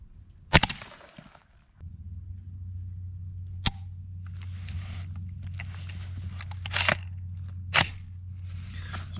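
Suppressed 300 Blackout rifle fires several sharp, dry shots spaced seconds apart over a steady low hum, the reports clipped and not very loud, like a pellet gun.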